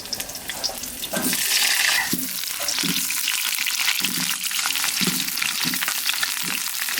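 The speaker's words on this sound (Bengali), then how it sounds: "মশলা বাটতে বাটতে আলু কটা ভেজে নিই।" Potatoes fry in a pan for a village-style duck curry with shallots, a loud steady sizzle running throughout, with soft rhythmic knocks of stirring every second or so.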